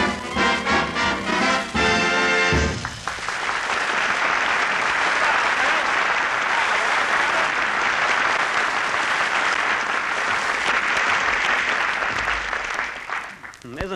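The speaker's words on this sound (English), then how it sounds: "He even puts applause on the record." Recorded applause placed on a 1941 radio broadcast right after a band finishes a song, a loud, sustained roar of crowd clapping that swells in and holds for about ten seconds before fading out.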